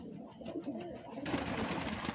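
Several pigeons drinking water together give soft, low cooing that rises briefly and then settles, faint and close, with a little background noise.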